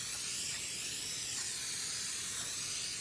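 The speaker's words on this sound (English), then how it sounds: "I'm using cooking spray, but again, you can use any method of greasing." Cooking spray hisses steadily from an aerosol can as a cookie sheet is greased for peanut butter cookies, a close, continuous spray lasting about three seconds with no talk.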